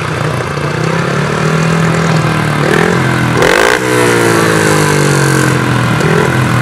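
Brakeless ice speedway racing motorcycles roar loudly and continuously at a regional ice race in Primorsky Krai. Engines rev up and down with sweeping pitch as bikes race past close by, and one sharp surge comes mid-way.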